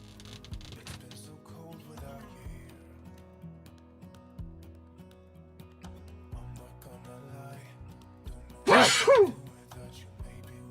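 A single sharp sneeze bursts out near the end, loud against a quiet room with faint background music.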